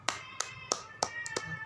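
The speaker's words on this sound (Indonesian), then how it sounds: "Dari tepuk tangan kepada adik Miriam." A few hands clapping during an online children's lesson, five or six distinct, evenly spaced claps close by, sparse and fairly faint.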